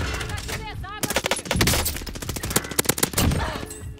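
Rapid automatic gunfire from the shooter game Call of Duty Warzone, with sharp bursts and single shots in quick succession, close and punchy, mixed with softer game effects at the start.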